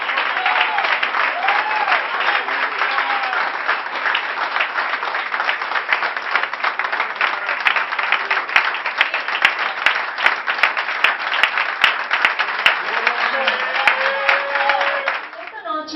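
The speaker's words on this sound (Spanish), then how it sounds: "que le demos el más fuerte de los aplausos al principal protagonista de esta noche" Loud, sustained audience applause fills an anniversary celebration hall, dense clapping continuing evenly for a long stretch, with a few voices faintly audible underneath.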